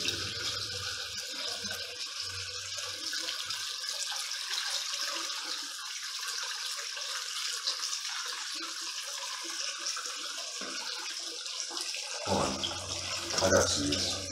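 Water running outdoors where people have to cross it, a steady rushing flow with a splash near the end, under occasional voices talking nearby.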